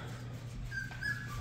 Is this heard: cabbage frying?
no